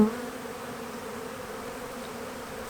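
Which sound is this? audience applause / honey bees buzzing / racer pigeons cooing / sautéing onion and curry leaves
honey bees buzzing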